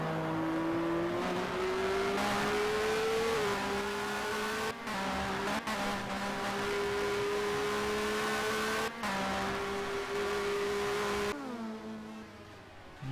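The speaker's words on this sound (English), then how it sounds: "him revving the engine quite a bit." Mid-1990s BTCC touring race car at Oulton Park revving hard, engine pitch climbing and holding in sustained loud whines, broken by brief gear-change dips, no talking over it.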